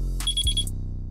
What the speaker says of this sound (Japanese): タイミング悪く、アラームが鳴ってしまいました。